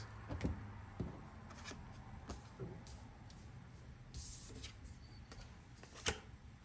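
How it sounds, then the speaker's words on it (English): Tarot cards of the Mystical Shaman deck shuffled by hand close up, giving soft, quiet riffling and flicking bursts in an uneven rhythm over faint background hum. "Let me show you guys a little shuffle action in front of the camera."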